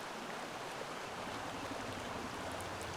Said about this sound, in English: oh yeah, and there's the waterfall sounds.